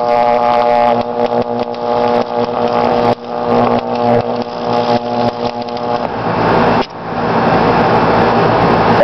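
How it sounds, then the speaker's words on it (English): A pole pig transformer arcs into a capacitor, giving a loud, sustained electrical squeal and buzz with steady tonal whine and crackling that briefly drops out twice before surging back. "That made a weird squealing sound."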